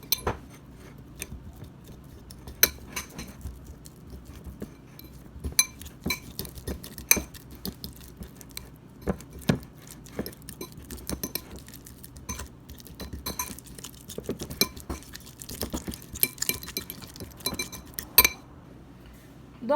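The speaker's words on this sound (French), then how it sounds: "voilà la purée de banane que j'obtiens après avoir écrasé ma banane douce bien sûr avec ma fourchette" A fork mashes a sweet banana in a bowl, giving irregular soft clinks and scrapes of metal against the dish that repeat steadily and close by with no talking.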